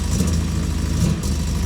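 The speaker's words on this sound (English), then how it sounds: "Okay, we've got a running engine, we've got a running MGB." A 1966 MGB GT engine just fired up and running, a steady close rumbling idle with slight unevenness and a brief dip partway through.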